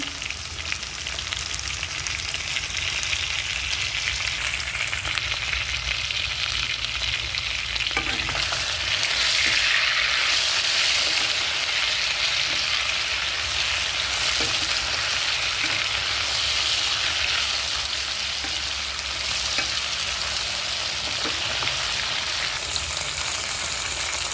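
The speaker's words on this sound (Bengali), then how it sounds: "এটাকে ভালো করে ভাজা করে নিতে হবে" A steady, loud sizzle of food frying in hot oil continues throughout, with occasional stirring scrapes and no voices.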